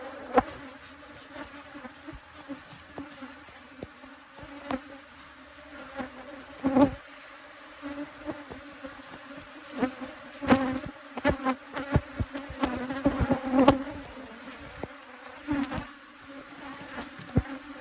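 Dense, steady buzzing from a crowded honeybee hive packed after the canola bloom, close by and continuous, with individual bees zipping past in louder brief swells throughout.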